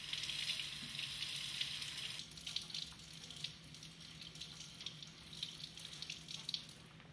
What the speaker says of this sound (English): she washes the sample thoroughly with water